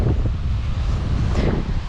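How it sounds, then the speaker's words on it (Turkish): Strong wind buffets the microphone in low, rumbling gusts on a beach in Phuket, Thailand, loud and continuous with no voices. "Normalde bu kadar rüzgar olmuyor tabi."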